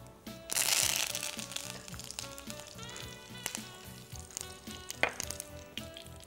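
Curry leaves dropped into hot oil, a sharp crackling sizzle that flares loudly and then settles into steady frying under background music.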